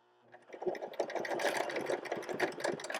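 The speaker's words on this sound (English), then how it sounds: "Some computerized sewing machines, you just press it and it'll go backwards, and you press it again and it starts to go forward." A computerized sewing machine stitches in a steady close whirring run that starts after a brief quiet moment and continues without speech.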